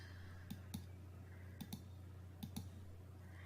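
Sharp computer mouse clicks come in three close pairs over a low steady hum, quiet and nearby, while a photo is being edited.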